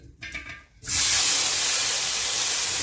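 Tomatoes set onto a hot iron tawa over a high gas flame, a brief quiet rustle then a sudden loud, steady hiss of steam and sizzle that holds to the end.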